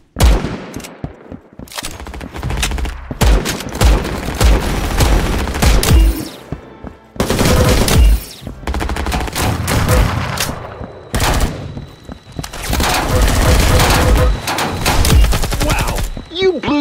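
Rapid gunfire in the Roblox shooter Arsenal 2, loud and close, in long dense bursts of automatic shots separated by brief pauses, with occasional heavier booms and no talk.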